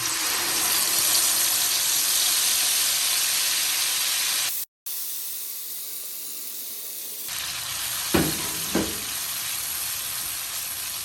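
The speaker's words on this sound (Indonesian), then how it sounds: "Kita tumis sampai bumbunya panas teman-teman" Chopped spice paste frying in a pan of hot oil, a dense, steady sizzle that cuts out for a moment, returns quieter, then swells again with two brief stirring knocks.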